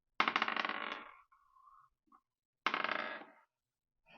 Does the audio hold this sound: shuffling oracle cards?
yes